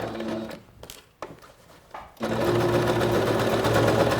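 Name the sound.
SINGER SewMate 5400 sewing machine sewing a side seam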